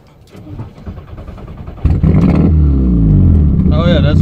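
A VW Jetta MK4 1.8T with a GT28 turbo cranks quietly, then catches with a sudden loud burst and settles into a heavy, steady, close-up engine roar.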